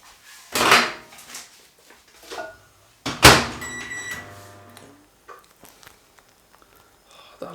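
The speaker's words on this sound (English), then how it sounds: "and then you microwave that for 40 seconds." A microwave oven heating steamed bao buns in their bag: a door thud, then a clunk with a short run of electronic beeps and a low hum, with quiet handling noises between.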